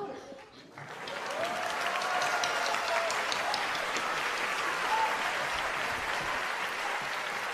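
After a brief quiet opening, a large audience breaks into sustained, even applause following a piano performance, a broad wash of clapping with faint tones and voices beneath it.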